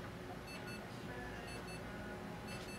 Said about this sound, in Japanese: あ、電話です